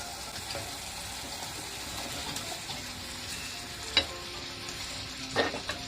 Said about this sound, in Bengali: এখন আমি পটেটো বলগুলোকে এর মধ্যে দিয়ে দেব